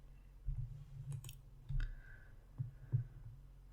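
A computer mouse clicks on an OK button, a few quiet, soft taps spaced irregularly over a near-silent background, with no talking.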